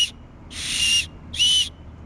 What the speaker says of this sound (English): If you do it 3 times, it's signaling for rescue.